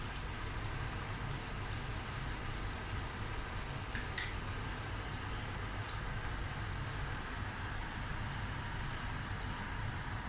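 Garlic and onion frying in a pan on a home stove for leftover chicken, a steady broadband sizzle running evenly throughout with a low background hum and no talk.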